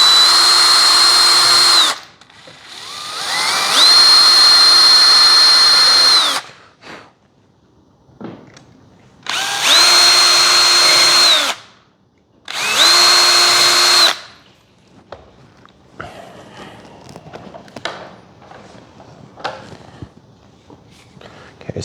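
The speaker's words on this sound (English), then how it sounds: "now that we have those holes drilled" A power drill bores holes through thin single-ply plywood on a model aircraft build, in three loud sustained whines separated by pauses, followed by quieter handling noises and clatter.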